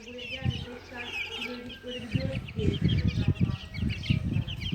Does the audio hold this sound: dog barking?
no